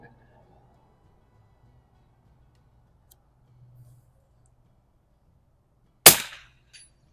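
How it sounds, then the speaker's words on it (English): A single sharp rifle shot from a scoped rifle aimed at a steel plate target at 50 to 100 yards, loud and close, followed by a faint ring against near silence with a few small clicks before it. "Let's hit that. Let's make sure it's not a fluke here."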